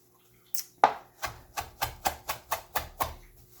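A freshly sharpened knife chops herbs that were spun and towel-dried on a cutting board, a close, crisp series of about ten evenly spaced chops in a steady rhythm, with no talking.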